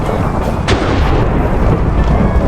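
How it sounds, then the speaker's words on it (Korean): Thunder from a lightning strike in Minecraft, on the Hypixel server during a Murder Mystery match, produces a loud, sustained rumbling roar with a sharper crack partway through and no talking. "빨리 들어가세요 번개가 집니다"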